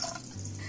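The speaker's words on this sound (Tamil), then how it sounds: "இந்த பாருங்க, இன்னும் கொஞ்சம் கூட தண்ணி ஆட் பண்ணலாம்." Water poured into a pot of celery soup gives a brief, soft splashing trickle, close and alone.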